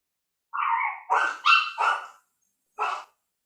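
A small dog barks five times in short bursts, close and clear: a quick pair, then two more, and a lone final bark after a pause.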